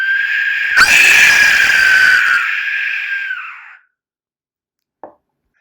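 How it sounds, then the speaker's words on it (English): An Aztec death whistle blown with one hard breath: a piercing, shrill scream that starts abruptly, holds loud for about three seconds, then cuts off, followed later by a single faint click. "The whistle produced a very loud, blood-curdling scream."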